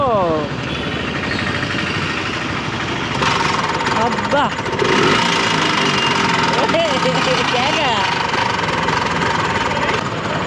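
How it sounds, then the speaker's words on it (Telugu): A motorized cycle rickshaw's petrol engine starts up and runs with a steady, knocking idle close by, while people talk over it and voices rise and fall throughout. "ఇదిగోండి మోటార్ కూడా ఉంది ఇక్కడ కార్ దగ్గర స్టార్ట్ చేస్తారు"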